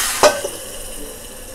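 Hot tempering of oil with asafoetida and curry leaves is poured into a chutney. It gives a sudden sharp sizzle that quickly fades into a soft hiss, close by and without talk.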